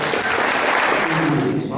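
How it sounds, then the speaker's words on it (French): An audience at an FSGT inter-committee sports podium ceremony in Louplande gives volunteers a short burst of dense, steady applause, loud and fairly close, with voices mixed in. "on va pouvoir les applaudir très très fort"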